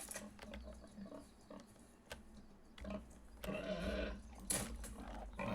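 A pig in the video game Nightingale grunts and squeals in short, uneven bursts at fairly low volume, with a louder squeal near the end.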